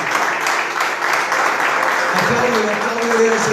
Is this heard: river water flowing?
no